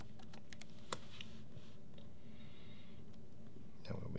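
Keystrokes on a computer keyboard while entering text for a red and black label on a Brother QL-810W printer, a quick burst of clicks near the start and scattered taps later, close and quiet with no talk.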